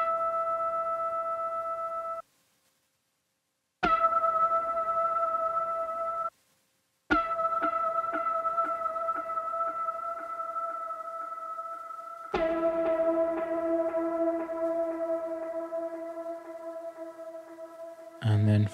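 Sustained synthesizer notes ring out in a few held chords with shimmering bit chorus, tape emulation, echoing delay and reverb tails, separated by short silences.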